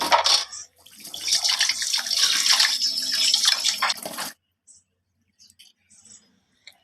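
Running water from a tap splashes steadily over kandavai, a freshwater clam being scrubbed clean in a sink, with a short splash first and a longer rinse, then quiet handling noises and a few faint drips.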